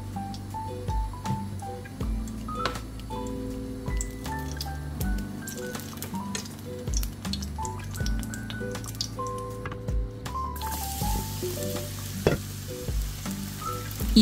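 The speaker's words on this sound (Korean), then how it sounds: "중불에서 볶아줍니다" Dried pollock strips stir-frying in oil in a pan over medium heat, a soft continuous sizzle with scattered scraping and stirring sounds throughout, under faint background music.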